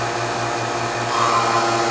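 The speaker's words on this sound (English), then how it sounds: "You can hear the change in the vacuum pump, and it's pulling the air out of the chamber." A vacuum pump on a DIY lost-wax casting pour chamber pulls air from the chamber, producing a steady, loud motor whine with a low hum that swells slightly partway through.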